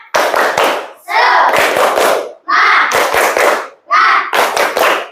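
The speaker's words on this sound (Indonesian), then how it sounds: "Untuk lebih menambah semangat kita tepuk dulu nggih. Tepuk semangat." A school class performs a rhythmic 'tepuk semangat' clapping routine, with loud, close bursts of sharp claps and chanted words in four distinct groups separated by brief pauses.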